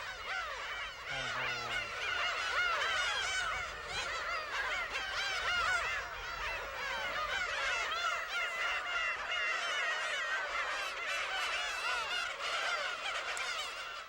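A dense colony of black-tailed gulls on a rocky island calls continuously, overlapping nasal, mewing cat-like cries from many birds, close and loud throughout with no pauses.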